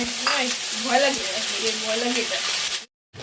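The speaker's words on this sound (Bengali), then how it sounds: "এখন যে কড়ার মধ্যে তেল দিয়ে দিলাম এখন হচ্ছে মাংসগুলো দিয়ে দিব" Meat frying in hot oil in a wok, a steady loud sizzle with light stirring, a voice speaking over it before a sudden brief cutoff.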